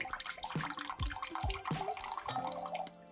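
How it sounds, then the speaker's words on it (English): Rice vinegar poured into a measuring cup for a sweet and sour meatball sauce, a close trickling splash with a few small clinks and gurgles over about three seconds. "For the sweet and sour meatballs, we are going to do 1/3 cup rice vinegar."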